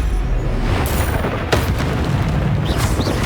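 Bombarda blasting spell explosion in Hogwarts Legacy, a short booming burst over steady rumbling game ambience, with the main blast landing midway and a lighter crackle after.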